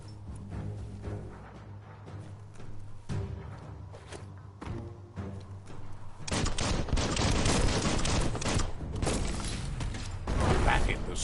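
A bomb lobber weapon fires in the video game Biomutant: mechanical clanks and clicks give way to rapid, rattling explosive bursts that grow louder and denser toward the end.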